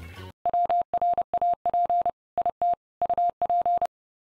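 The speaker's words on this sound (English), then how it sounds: "hip reviewers know that's Morse code for wrap it up" A rapid series of clean electronic beeps taps out Morse code, with short and long tones in rhythmic groups, loud and alone for about three and a half seconds.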